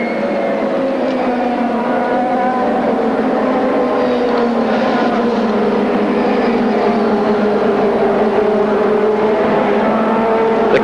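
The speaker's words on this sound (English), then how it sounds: "they're all going around slowly now because the pace car is leading the field" IndyCar race cars at the 1997 Nazareth Grand Prix circle the oval slowly behind the pace car, a continuous loud engine drone with a steady tone and slight swells as the field passes.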